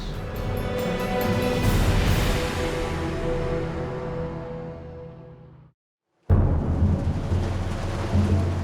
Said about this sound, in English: Gale force winds and heavy rains have hit Kodiak Island.